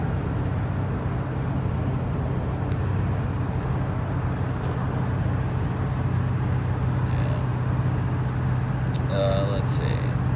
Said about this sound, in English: I need to concentrate on driving